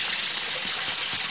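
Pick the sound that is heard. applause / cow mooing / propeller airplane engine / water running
water running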